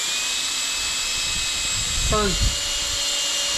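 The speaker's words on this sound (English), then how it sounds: "To get that twist in your wires, you can just take the end of the wires, chuck them into a drill" A power drill spins a pair of wire ends together, their far ends clamped in a vise, a steady high motor whine running throughout under a brief spoken word.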